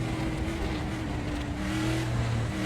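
A Chevy Monza race car engine in the RaceRoom video game hums and revs steadily at close range, shifting pitch slightly, with no voices.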